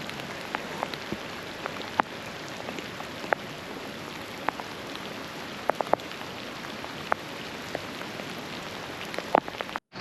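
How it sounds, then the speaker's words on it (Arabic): Heavy rain falls in Sulaymaniyah as a steady close hiss, scattered with sharp individual drips and taps striking a surface at irregular intervals, with no voices. "مطر بدون توقف."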